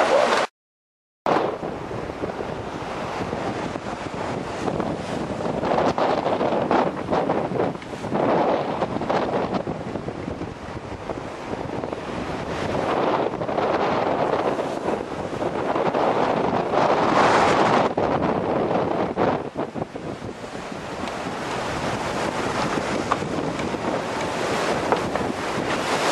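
Heavy storm wind and crashing ocean waves roar around a 60-foot Vendée Globe racing sailboat in the Southern Ocean, with loud, continuous gusting and surging water and buffeting microphone wind noise, with no voices.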